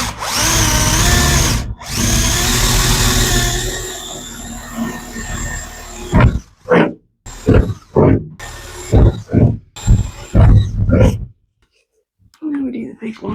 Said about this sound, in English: get a bigger drill bit to drill